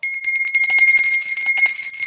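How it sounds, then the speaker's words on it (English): A small bell rings rapidly and repeatedly, bright and metallic, with a sustained shimmering tone throughout. "Terry says, so you rang the Virgin Bell."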